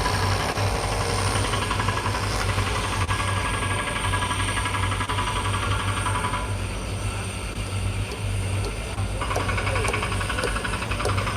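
A truck engine idles at a construction site at SpaceX Starbase in Boca Chica, Texas, where concrete is being poured, giving a steady loud mechanical drone with a low hum that continues throughout, with no voices.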